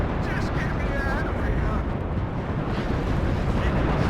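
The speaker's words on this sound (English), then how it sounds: "I got the Lynx AS-1 rockets coming up to get lots of damage down." Lynx AS-1 rocket barrages slamming down in the WARNO war game, a dense continuous roar of blasts and rumbling impacts with a voice talking over it.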